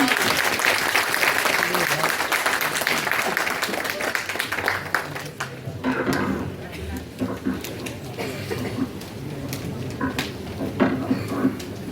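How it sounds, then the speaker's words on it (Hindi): Audience at a special-education workshop session applauding the chief guest, a loud dense round of clapping that thins into scattered claps, with some talk underneath. "आपकी तालियों की गड़गड़ाहट को"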